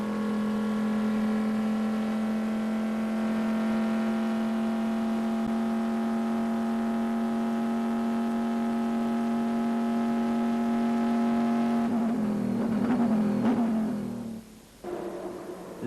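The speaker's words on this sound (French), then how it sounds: "la Corvette C5R et son mélodieux V8 de 620 chevaux piloté par Gavin Beretta et Magnussen" Corvette C5R race car at the 2004 Le Mans 24 Hours, its 620-horsepower V8 sustaining a loud, steady, tonal engine note that roars and then fades out abruptly near the end, alone without talk.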